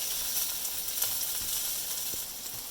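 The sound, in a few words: onions, peppers and garlic sizzling in oil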